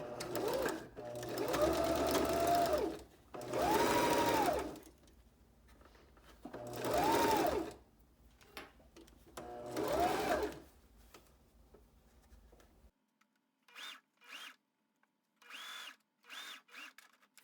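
A sewing machine runs in several bursts of stitching along the top seam of a fabric face mask, each run lasting about a second with pauses between, followed by a few shorter, fainter runs near the end.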